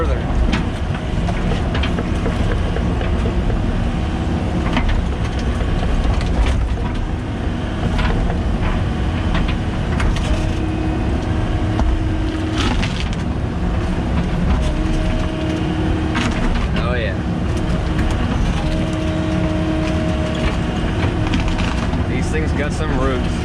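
A new Kubota 80-size excavator runs steadily while clearing roots at a homestead house site, a loud continuous engine drone with hydraulic strain and occasional clunks throughout, close to the machine.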